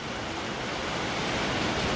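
Heavy rain pours down on a paddock during a rainstorm, a dense, even hiss that holds steady and swells slightly, with no voices.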